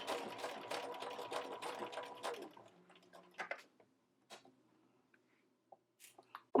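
A sewing machine stitching a curved seam on a culotte jumpsuit along a quarter-inch line, a steady rapid whirring run of about two and a half seconds that stops, followed by faint handling clicks and a close thump.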